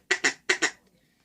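A hand-blown duck call gives four quick nasal quacks in two pairs, loud and close, then falls silent.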